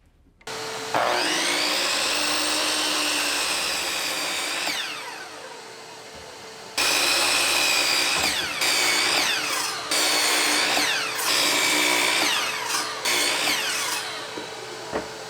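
A miter saw cuts wood pieces for a desk build, its motor spinning up into a loud whining cut, winding down, then biting again through several more shorter cuts in close succession.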